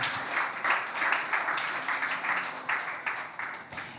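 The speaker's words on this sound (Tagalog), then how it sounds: "Sige po, malakas sa palakpak." A church congregation claps together during worship, a dense and steady applause that swells and fades slightly over several seconds with no talking.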